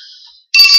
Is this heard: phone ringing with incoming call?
yes